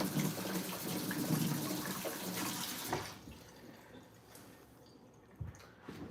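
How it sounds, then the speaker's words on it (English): A kitchen tap running as hands are washed while cooking chicken nachos, a steady splashing gush for about three seconds that then stops, leaving faint handling noises. "Oh, now I gotta wash my hands again."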